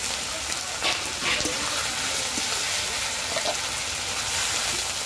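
Potatoes fry in a pan with onion, green chilli and ginger paste, giving a steady, close, loud sizzle that runs the whole time, with soft scrapes of stirring and no voices.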